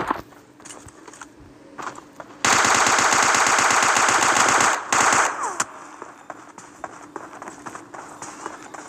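PUBG gunfire with the AWM in play: a sustained burst of rapid automatic shots lasting about two seconds, then a second shorter burst, loud and close, with footsteps and quieter activity around it.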